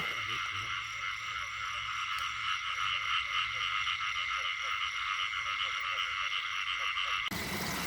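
Frogs croak at night in the rain in rural Thailand, a dense, continuous chorus of repeated calls with steady layered droning, fairly close and loud.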